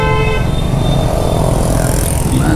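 Night road traffic heard from a motorcycle, with a short car horn toot at the start over a loud, close rumble of engines and passing vehicles.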